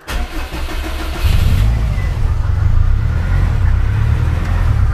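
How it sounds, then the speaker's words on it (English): A Subaru engine cranks and catches, then settles into a loud, steady, rumbling idle close by, running on with no talk over it. "Don't know if you can hear this over the engine running there, which is a bit noisy."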